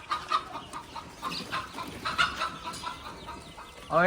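Chickens on a goat farm cluck in irregular bursts nearby, with overlapping soft calls and a louder squawk at the end.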